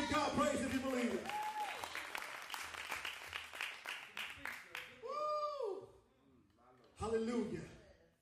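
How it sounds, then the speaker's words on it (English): A church congregation claps and cheers during a worship service, a dense patter of hands at first, fading out under a loud preacher's voice, with a brief swell of crowd noise near the end. "clap your hands and give God praise if you believe it"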